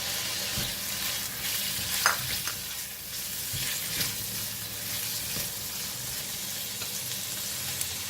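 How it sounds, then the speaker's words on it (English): Prawns stir-fried with kaffir lime leaves and onion for a Tom Yum glass noodle dish, a steady close sizzle with scraping stirs and occasional clacks of the utensil on the pan throughout. "Just stir fry."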